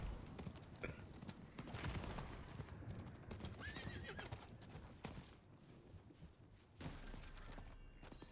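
Horse neighing and hooves clip-clopping in the video game Diablo IV, a whinny rising mid-clip over steady galloping hoofbeats, with busy game effects around it.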